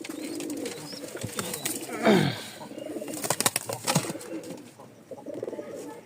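Tumbler pigeons coo in low, throaty murmurs close by, with a brief flurry of flapping wings partway through and light rustling around them.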